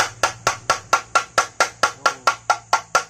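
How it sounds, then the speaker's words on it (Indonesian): Bamboo clapper bird scarer rattling in a village, a steady run of about fourteen sharp wooden knocks at an even, brisk pace, close and loud with nothing else over it. "Alat pengusir burung."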